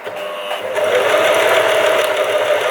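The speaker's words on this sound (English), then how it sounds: "presser foot down, and I'm going to sew the first line" A sewing machine runs steadily while stitching the first line of a buttonhole, its motor whirring continuously and rising to full speed after a short start, close and loud.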